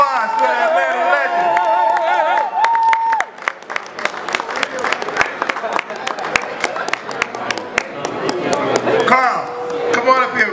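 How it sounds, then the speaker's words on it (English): Applause and scattered cheers fill a BMI Atlanta Legends award presentation as the honoree is celebrated, dense clapping running throughout with a loud hall PA voice talking over it and music-like tones near the start. "Give him a round of applause for that Atlanta legend"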